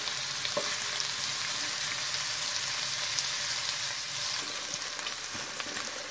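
Onions softening in a hot pan for matar paneer, giving a continuous, even sizzle and crackle with a few sharper pops and no voices.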